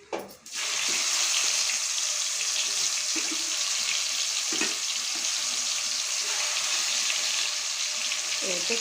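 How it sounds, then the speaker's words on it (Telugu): Star anise, cloves, cinnamon stick, caraway and cardamom sizzle in hot oil for chicken dum biryani, a dense, steady crackle starting after a short rustle and continuing loudly throughout. "ఇది దీనిట్లో ఆయిల్లో వేసుకొని కొంచెం ఫ్రై చేసుకోవాలి."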